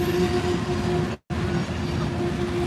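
Trains rumble past on Horseshoe Curve in Pennsylvania, a loud, steady rolling roar with a sustained tonal hum, broken by one brief dropout partway through.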